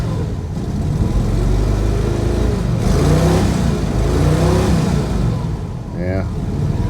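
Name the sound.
Chevrolet C-10 square body truck engine revving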